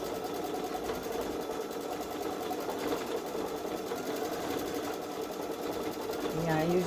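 A Baby Lock Solaris Vision sewing machine stitches edge-to-edge quilting with a fast, steady mechanical whir and rhythmic needle chatter, heard up close and continuously throughout.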